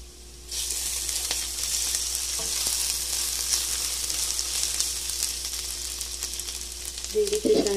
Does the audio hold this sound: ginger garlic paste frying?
yes